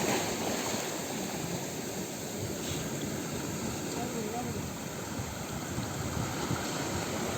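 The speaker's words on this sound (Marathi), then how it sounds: "खतरनाक लाट." Sea waves surge and crash at the shore, a continuous broad roar of surf that stays fairly even and close throughout without clear individual breaks.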